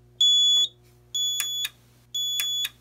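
Three loud, evenly spaced electronic beeps from a Simplex 4004 fire alarm panel, each a shrill, sustained tone about half a second long, with short pauses between.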